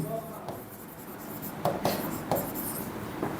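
Pen writing notes during a Hindi-medium biology lecture on tissue-level body organisation: soft continuous scratching strokes with a few sharper taps, close and fairly quiet.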